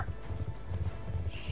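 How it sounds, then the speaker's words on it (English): A horse gallops in the video game Call of Duty: Black Ops 2, its hooves drumming in a steady rapid rhythm under a dense wash of background noise. "Can't that horse go any faster?"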